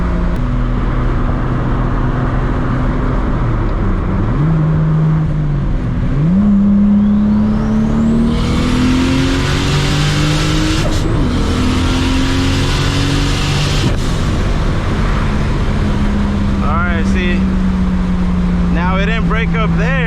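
A Toyota Supra MKIV with a boost leak taped over accelerates hard from inside the cabin, its engine pitch climbing through gears with loud intake whoosh and turbo whine, then settling to a steady cruise as a voice speaks near the end.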